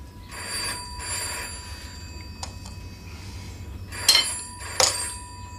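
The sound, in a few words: telephone bell ringing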